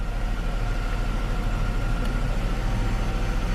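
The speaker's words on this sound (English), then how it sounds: "You can hear the engine idle change." A car engine idles steadily while a 12V inverter draws load from it, a low continuous hum with a faint shift in idle, no talk.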